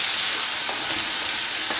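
Dried shrimp frying in a pan on a low flame, a dense continuous sizzle with a couple of light stirring scrapes, close and fairly loud, no voices.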